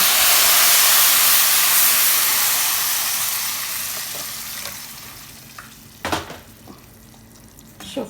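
Water poured into a hot pot of vermicelli with raisins, cardamom and rosewater sets off a loud, broad steam hiss that slowly fades over several seconds, followed by a few close clattering knocks from the pot.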